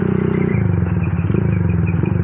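A Honda CB Tiger 200cc motorcycle fitted with a DOS aftermarket exhaust idles and revs up close, its loud throbbing pulse rising in pitch as the engine speeds up.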